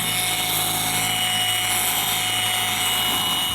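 A cordless buffer polishes out scratches in the paint of a supercharged Chevrolet Silverado truck, giving a steady, loud, high-pitched motor whine with a constant hum that runs unbroken for the whole stretch, with no talking.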